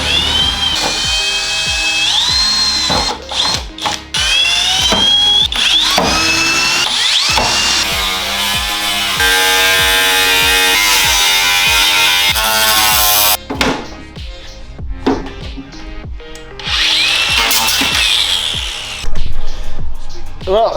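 A power drill bores holes in a BMW E36 body kit panel, whining up and down in long high-pitched runs with stops, clicks and handling clatter between bursts, close and loud.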